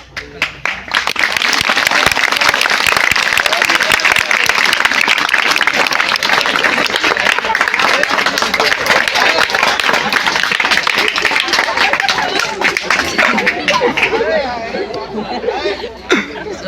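A crowd at a charity event for poor schoolchildren breaks into loud, sustained clapping, mixed with chatter and some talk, holding strong for over ten seconds before tapering off.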